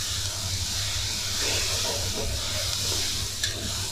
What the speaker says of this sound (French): Et on continue à remuer.